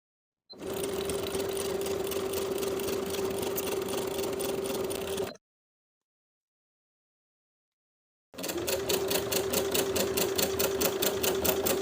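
A sewing machine topstitching the fly of stretch denim jeans, catching the fly guard: two steady, close runs of fast stitching separated by a silent pause of about three seconds.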